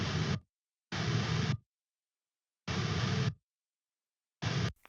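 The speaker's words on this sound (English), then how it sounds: "I also added these octave down guitars that just basically" Octave-down guitar overdub for a modern metal chorus, played alone as four loud, dense bursts separated by silent gaps, with no other instruments.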